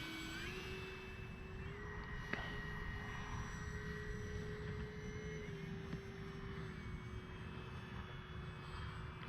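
A Kavan Bristell B-23 RC model plane flying overhead in windy conditions, its electric motor a thin steady whine that shifts pitch slightly as it passes at moderate distance over faint wind noise.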